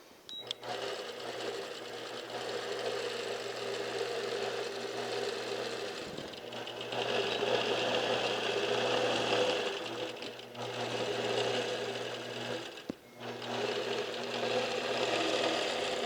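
A longarm quilting machine stitches a quilt while following a pantograph pattern, giving a steady, close mechanical whir with a low motor hum that runs almost unbroken. It pauses only briefly around a few moments.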